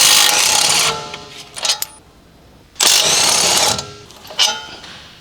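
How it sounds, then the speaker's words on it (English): A large impact wrench with a 21mm long socket hammers loose the front brake caliper retaining bolt on a Dodge Ram: two loud, rattling bursts of about a second each, each followed by short spinning blips, close up. "Using the large 21mm long socket with the large impact wrench, remove the front brake caliper retaining bolt."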